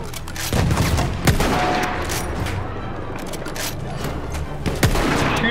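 Battlefield 1 first-person battle gunfire: sustained rapid volleys of shots with heavier booming reports, loud and close, running the whole time amid constant battlefield clamor.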